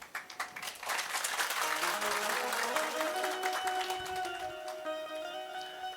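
Audience applause at a Hindi devotional discourse, a dense, steady clapping that holds loud for several seconds, with sustained musical tones ringing through it and no talk.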